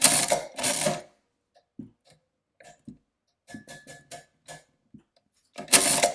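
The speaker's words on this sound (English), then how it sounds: "Now when I do the crank, it'll set the answer and perform the carry." The crank of an Addo Model 2 mechanical adding machine is turned, giving two loud whirring sweeps at the start, then scattered small clicks and ticks, and a final loud whirring turn.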